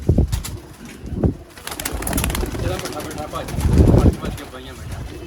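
Pigeons coo at a pigeon show in Sialkot, Pakistan, a busy, noisy setting with some fluttering and voices mixed into the background.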